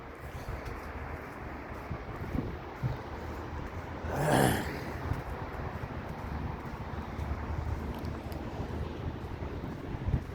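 Strong wind blows outdoors on a cold, dark day as a continuous low rumble buffeting the microphone, with one brief louder gust near the middle.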